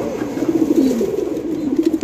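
Pigeons at a pigeon market give a continuous run of low, throaty coos, close by and steady, with no talking over them.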